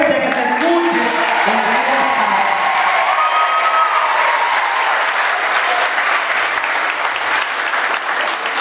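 Loud, sustained applause from a crowd at a Mother's Day gift-giving event fills the whole stretch, dense clapping with a few voices rising briefly early on.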